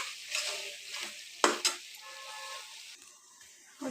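Beef being stirred and fried down in a pan: quiet sizzling with irregular scraping stirs and a couple of sharper metallic knocks of the spoon against the pan, no voices.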